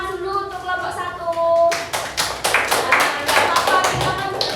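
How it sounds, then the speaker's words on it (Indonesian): A classroom of children applauds a student group, starting with a few scattered claps and then breaking into loud, dense clapping, while a voice speaks over the start. "tepuk tangan dulu untuk kelompok 1"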